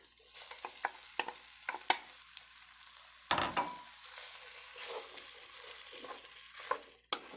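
Tomatoes and green beans are stirred into a Mexican pork stew in a pot: a spoon scrapes and taps in irregular strokes, with a few sharper clinks standing out against a quiet, faintly sizzling background.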